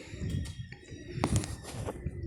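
Low, soft cooing of a dove repeating through the clip, with higher bird chirps mixed in nearby.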